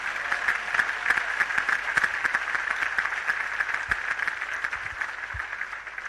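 A church congregation applauding together, a dense steady wash of clapping that holds loud and even throughout, with no speech over it.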